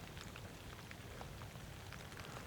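Rain falls steadily through bare winter woodland, a faint and even patter of countless small drops landing on the ground and branches, with no voices.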